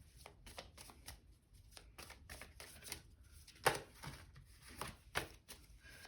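Tarot cards being shuffled by hand in a quiet room, a run of crisp riffling bursts and soft flicks, close and steady with a few louder snaps, no talking.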